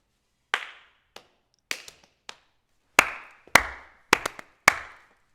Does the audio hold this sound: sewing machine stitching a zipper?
no